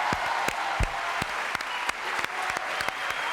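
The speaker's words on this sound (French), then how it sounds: "Applaudissements pour Monsieur Locatelli et pour Monsieur Villa." Studio audience on a French television show applauding: crisp close claps ringing out in a fairly quick, uneven rhythm over a steady wash of fainter clapping.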